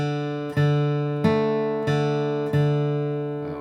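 A flatpicked guitar plays one measure of the Swallowtail Jig slowly, four clear picked notes ringing out evenly in turn, close and alone.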